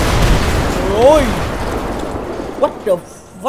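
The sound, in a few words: explosion in the video game GTA 5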